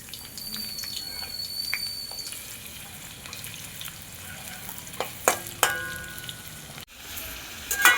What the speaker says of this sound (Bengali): তেলটা গরম হয়ে গেছে, এবারে এতে পেঁয়াজ ঢেলে দিচ্ছি।